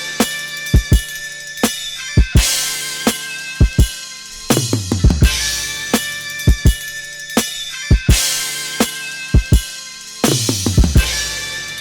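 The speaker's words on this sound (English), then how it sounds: "So when you hear the drums with the sample, sounds like this." A hip-hop beat for a track plays with its sample, punchy kick and snare hits in a steady loop over a dense, bright sampled layer, loud and without voices.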